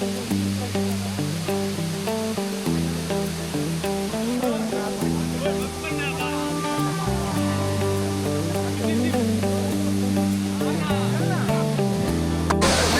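A waterfall in Meghalaya roars with a dense, steady rush of falling water, loud and continuous, with people talking and calling out over it.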